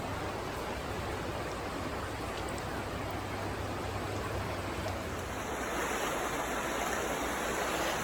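Water running down natural rock in tunnels under hot springs, a steady hissing rush like a small stream, continuous and moderately quiet, with a faint background hum and no voices.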